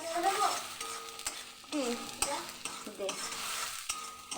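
Egg being stirred with spices in a frying pan, a steady close sizzle with repeated scraping strokes of the utensil against the pan, continuous and fairly loud, no voices.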